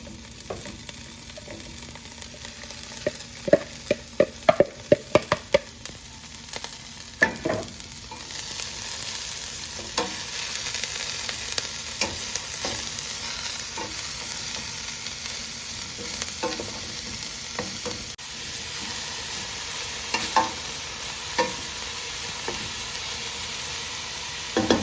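Edible garden leaves are stir-fried with cumin seeds, onion, garlic and dried chilies in a pan, giving a steady sizzle with scraping stirs and clatters of a spatula, busier at first and then settling into a hiss.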